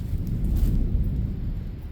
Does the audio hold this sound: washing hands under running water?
no